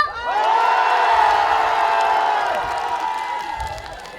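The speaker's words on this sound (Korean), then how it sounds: "팔공산이 흔들릴 정도로 박수와 함성!" A large outdoor crowd at a township sports festival in Wachon-myeon, Gyeongsan, Korea, roars with cheers, whoops and shouts. The sustained wave swells early and slowly fades over faint clapping, with a held tonal sound running through it.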